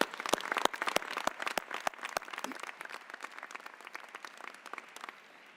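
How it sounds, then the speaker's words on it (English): An audience at a Rutgers School of Business–Camden graduation ceremony applauds, with a few sharp individual claps at first, then dense clapping that gradually thins and fades, heard alone without talk. "So join me in a round of applause."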